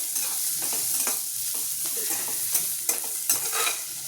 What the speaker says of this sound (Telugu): ఇది వేగాలి బాగా. ఆనియన్స్ ఆరెంజ్ బ్రౌనిష్ కలర్లో వస్తాయి కదండి, కొంచెం బాగా వేగాక